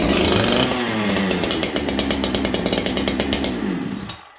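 A Farmertec 288 chainsaw, started cold after sitting unused, runs loud and close with a raw, buzzing two-stroke snarl that wavers through bursts of throttle before it cuts off abruptly near the end.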